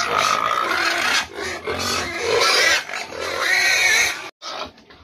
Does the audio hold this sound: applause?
no